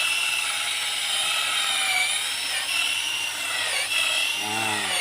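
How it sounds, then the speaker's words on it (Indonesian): A steady high-pitched motorized whine drones continuously as a power drill bores into an agarwood tree trunk, with slight shifts in pitch throughout. "Kita menggunakan bor"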